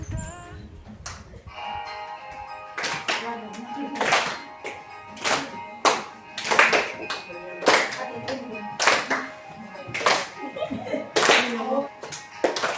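A group at a school counseling session sways side to side, clapping hands in a steady, evenly spaced beat while singing together, the claps loud and sharp over the melody.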